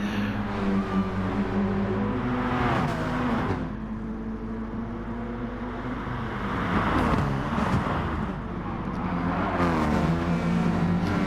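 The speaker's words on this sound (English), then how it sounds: "See how fast those cars go past" Race cars passing at speed at Bathurst in a racing game, engines roaring past in successive swells with rising and falling pitch, loud and continuous as the pack streams by.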